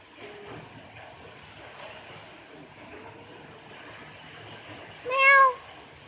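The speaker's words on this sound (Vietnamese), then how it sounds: "Mèo đói. Mèo kêu." A hungry black pet cat gives one loud, clear meow near the end, after quieter faint mewing and soft background noise indoors.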